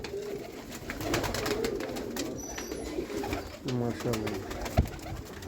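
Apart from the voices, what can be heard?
Sialkoti rooftop pigeons cooing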